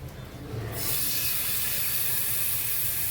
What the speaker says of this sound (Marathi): आपला तवा छान तापलेला आहे यामध्ये आता एक एक पीस घालून घेऊया